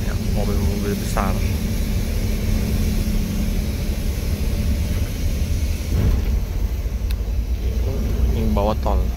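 Big vehicles driving beneath a toll road, a continuous low traffic rumble heard from a moving vehicle, with brief voices near the start and end.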